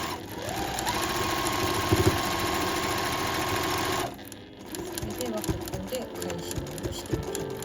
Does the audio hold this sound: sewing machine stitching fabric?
yes